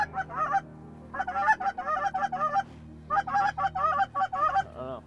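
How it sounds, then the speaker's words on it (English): Geese honk repeatedly in loud, close bursts of overlapping calls during a late-season duck hunt in Wyoming, with brief pauses between flurries and a steady low background rumble. "these geese are really low in front too"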